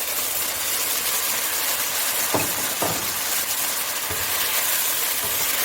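Beef and broccoli stirred in a hot pan, with a steady broadband sizzle throughout and a few short scraping knocks of the utensil against the pan near the middle.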